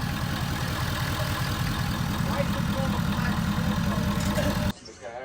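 A car engine idling steadily after an intercooler piping install, a dense unbroken rumble at a constant level that cuts off abruptly just before the end.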